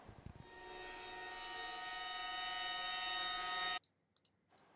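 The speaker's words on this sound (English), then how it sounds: "A lot of what you're hearing are things we've already heard, these cymbal effects." A shimmering, swelling orchestral cymbal effect that builds steadily in a brass-and-reeds score, then cuts off sharply and leaves a few faint clicks and taps.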